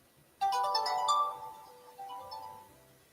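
A phone rings with an unknown caller, a bright melodic ringtone starting abruptly, then fading and repeating faintly at a lower level.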